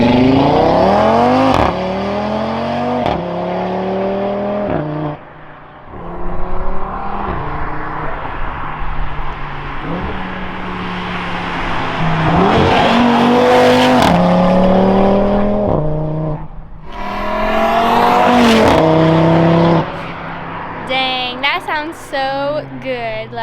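An Audi RS3 with a straight-piped exhaust, mid pipes fitted and secondary cats removed, revs hard again and again, loud and close, its engine note climbing and falling, with people talking over it.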